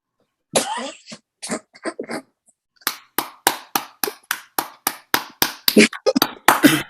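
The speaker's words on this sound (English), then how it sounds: "I'm clapping because you're the first black woman I heard say that" A single person claps hands, sharp distinct claps close to the microphone, a few scattered ones at first, then a steady run of evenly spaced claps with no talking.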